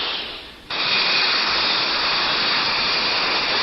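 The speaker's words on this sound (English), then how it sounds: "There are jets that can rise straight up and then hover, like this British Hawker P-1127." Steady, loud broadband roar of a British Hawker P-1127 VTOL jet engine, rising sharply in level early on and then holding a constant hiss-like rush.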